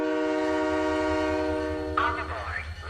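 In Halo 3: ODST, a train sounds a long sustained horn chord for about two seconds, and then a brief screeching, gliding metallic tone follows over a low rumble.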